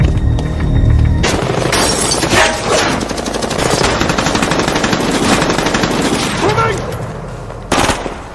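A gunfire shootout in an action film about a federal bank robbery, with loud rapid automatic bursts, sharp shots and shattering debris crowding together continuously, with spoken voices mixed in.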